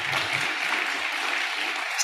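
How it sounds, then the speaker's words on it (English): An audience at an education forum plenary applauds the Afghanistan team, a steady wash of many hands clapping that holds throughout, moderately loud and without talk. "I would like to have a huge round of applause for the Afghanistan team"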